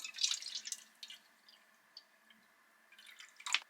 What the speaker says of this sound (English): Put 250 ml of water in here.